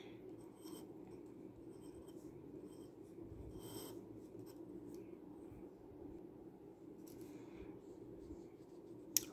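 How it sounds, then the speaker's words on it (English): Soft scratching strokes of a glass dip pen nib on paper, with short bursts and pauses between strokes, faint and close over a quiet room. "the pen writes really, really nice too, nice and smooth"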